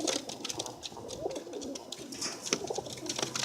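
Young pet pigeons of red and yellow color varieties coo and rustle nearby, giving soft repeated calls and brief fluttering sounds with no talking.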